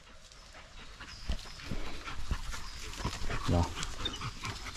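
Hunting dogs on a wild boar hunt pant quickly and let out short whimpers close by, while a person speaks briefly over them outdoors.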